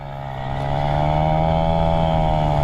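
A 1982 Suzuki FS50 moped engine pulling away in first gear, a loud close buzzing drone whose pitch climbs steadily as it revs, running alone without talk.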